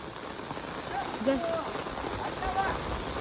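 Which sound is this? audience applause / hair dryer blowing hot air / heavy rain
heavy rain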